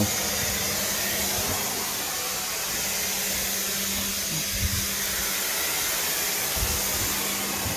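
A vacuum cleaner hooked to the back of a clothes dryer roars steadily while its vent is cleaned of wet lint, with a loud, continuous whoosh and faint thumps from scrubbing underneath.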